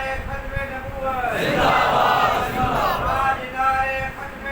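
A large crowd at an 11 Rabi al-Awwal mosque gathering in Khushab chants religious slogans in unison, loud and close, swelling to a sustained roar in the middle before easing slightly.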